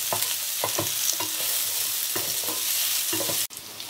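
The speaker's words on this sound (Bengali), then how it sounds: "পেঁয়াজটা একটু গোল্ডেন ব্রাউন করে ভেজে নেব" Onions frying toward golden brown in a pan for a Bengali chicken ghonto: a loud, continuous hissing sizzle with repeated stirring scrapes throughout, close up and with no voices.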